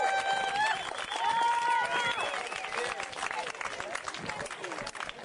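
An outdoor crowd applauds and cheers as a speaker is introduced, a dense wash of clapping that swells and then thins out, with a few voices calling out over it.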